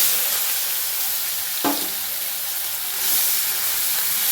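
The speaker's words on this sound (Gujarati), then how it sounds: "પેસ્ટ સતળાય એટલે એમાં ડુંગળી મૂકીશું." Onion added to frying paste for chole, a continuous loud hiss and sizzle with one brief clatter as ingredients go in, close and with no talk.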